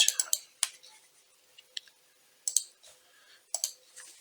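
Computer mouse clicks, made while drawing a Strat-style guitar neck pocket with the Inkscape pen tool, come as sharp close clicks in small clusters, some double, separated by quiet pauses.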